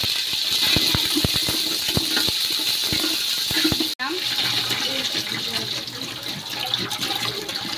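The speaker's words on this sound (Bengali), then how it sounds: "এটা আমি মাপ ছাড়া পানি দিলাম।" Water poured without measuring into a pot of beef biryani, a continuous splashing pour that runs steadily for several seconds, briefly interrupted midway, then flows on.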